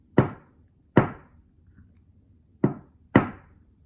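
Four sharp metallic knocks as a broken pin is driven out of a Milwaukee M12 ratchet, irregularly spaced, close and loud over a quiet background.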